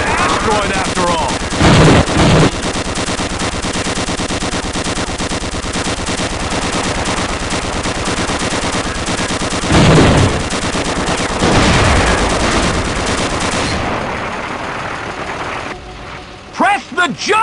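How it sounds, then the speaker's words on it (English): Sustained automatic machine-gun fire from a vehicle-mounted gun in the Gunman Chronicles shooter game, set inside an asteroid, rattling loudly and continuously for most of the span with a couple of heavier bursts, then cutting out near the end. "Press your crouch key to fire the machine gun."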